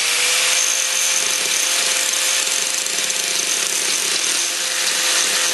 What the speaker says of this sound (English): I just need to grind that back a little bit so that that doesn't hit the disc and stop it from turning